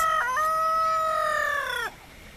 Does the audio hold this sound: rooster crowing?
yes